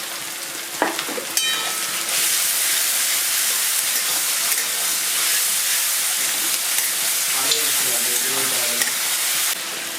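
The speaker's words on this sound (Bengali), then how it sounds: "পেঁয়াজ আর রসুনটা ভালো করে ভেজে নেব।" Onion and garlic paste frying in a pan for chicken kosha gives a steady, loud sizzle and hiss lasting throughout, with a few brief clinks of a spoon near the start and soft stirring scrapes toward the end.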